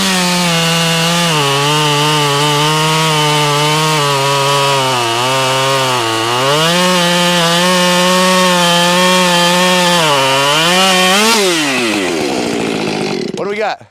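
Honda CR500 two-stroke engine powering a chainsaw as it cuts wood, a loud, steady, near whine that dips and rises in pitch under load for about eleven seconds, then winds down abruptly.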